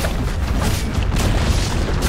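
A tower collapses in the video game Dota 2, a loud, dense rumbling boom with crumbling debris that holds steady for a couple of seconds.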